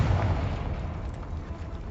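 Booming blasts from the Confringo fire spell in Hogwarts Legacy, a dense, sustained low rumble of explosions filling the whole moment with no pause.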